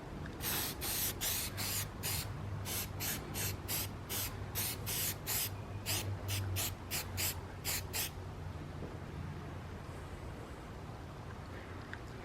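Mothers Back to Black trim restorer sprayed onto car trim in roughly sixteen quick, even bursts of close hissing, followed by a quieter stretch with only low background hum and no talking.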